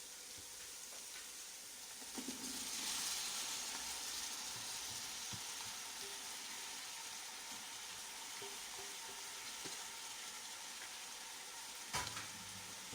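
Tomato, coriander and mint stirred in a frying pan for chicken biryani, a soft steady sizzle with occasional spatula scrapes and a sharper knock near the end, faint and close.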